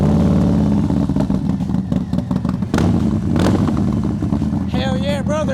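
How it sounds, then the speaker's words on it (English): Harley-Davidson M8 Softail motorcycle engine warming up, a loud, close, steady rumbling idle that carries through the whole stretch, with clattering noises and a brief voice near the end. "Cool, on to warming up the bike if I could reach it."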